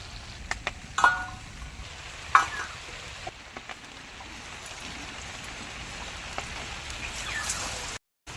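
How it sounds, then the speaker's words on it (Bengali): Steady low crackle of semolina rolls frying in hot oil, with a couple of brief clatters near the start, then a sudden cut at the end. "রোল আমি তেলে এইভাবে ভেজে নেব"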